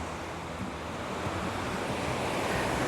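Surf rolls onto Bang Tao Beach in Phuket in August, a steady broad wash of breaking waves with wind buffeting the microphone throughout.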